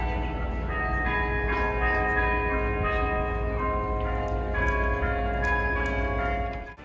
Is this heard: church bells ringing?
yes